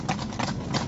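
Horses' hooves clip-clopping on a stag hunt, several close, rhythmic hoofbeats in quick succession over a brief moment.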